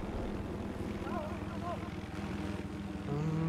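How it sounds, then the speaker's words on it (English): Helicopter from the Battlefield 4 video game, a steady rotor and engine drone running throughout under game noise, growing slightly louder near the end. "There's a helicopter!"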